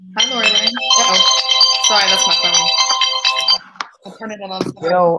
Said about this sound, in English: Uh-oh. Sorry, that's my phone.